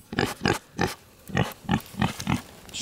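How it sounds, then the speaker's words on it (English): A pig grunts in a short series of about seven close, loud, snuffling grunts, spaced roughly evenly with brief gaps between them. "Say hi to the pig."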